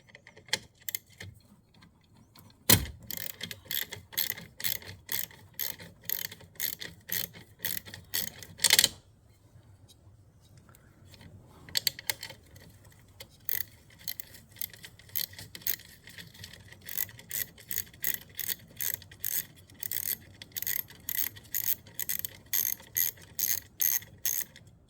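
Ratchet wrench with a 13 mm socket loosening the battery terminal on a 2018 Jeep Compass Trailhawk: long runs of rapid, close, crisp clicking in steady bursts, with brief pauses between strokes, no talk.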